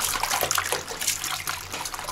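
Cold water sloshing and splashing in a full bucket as salted fish are rinsed by hand, a brief busy burst of liquid churning and trickling close up.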